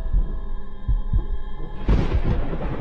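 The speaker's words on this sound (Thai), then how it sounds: "ทุกอย่างเงียบถึงขนาดได้ยินเสียงหัวใจตัวเองเต้น" Heartbeat sound effect from a ghost story: low, muffled thumps arriving in paired beats over a steady sustained drone, loud and close, with no speech.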